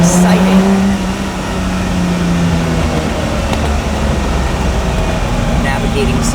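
A Lamborghini Miura SV drives along residential roads, its engine and road noise a steady, close, loud drone throughout, with someone talking over it.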